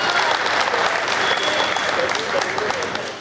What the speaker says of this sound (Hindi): तालियां एक बार ढंग से बजा दीजिए मेरे सम्मान में